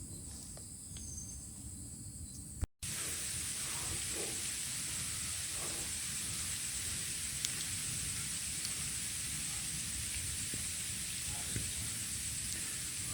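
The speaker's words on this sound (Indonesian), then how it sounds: "Mulai hujan." Rain falls on a steep mountain trail on Mount Sagara in Garut, a steady, close hiss of drops with faint insect chirps underneath and no talking.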